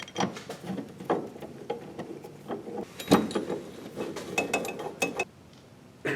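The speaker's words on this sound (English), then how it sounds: "now I can crank these down" Sway bar mounting bolts are cranked down on a 1970-1981 Camaro, making a close series of irregular metallic clicks, ratchet ticks and clinks, busy and uneven for about six seconds with no talk.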